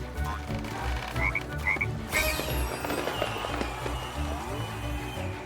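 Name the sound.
frogs croaking in video game Lego Party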